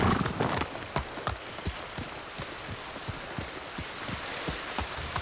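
Horse galloping in Ghost of Tsushima, a steady run of close hoof clip-clops over a bed of rain-like hiss, with a brief voice at the start.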